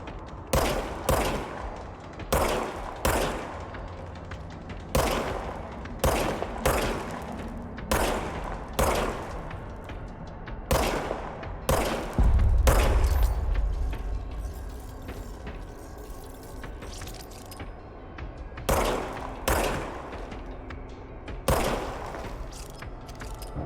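Repeated gunshots from the video game Control fire in quick, evenly spaced bursts, loud and close, with brief gaps between volleys and a low rumble partway through.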